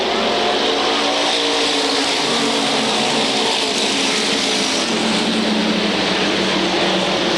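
SK Modified race cars at Waterford Speedbowl in a 1994 feature race, a loud, unbroken wall of engine roar as the pack circles the track, with a faint announcer voice beneath.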